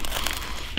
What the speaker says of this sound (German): Hört an, das knuspert wie ein Weihnachtsbraten.